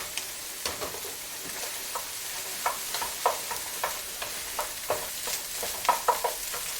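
Cooked rice is stir-fried in a pan for pineapple fried rice. Spatula scrapes and taps come in an irregular rhythm over a soft, constant sizzle, close and fairly loud, with no voices.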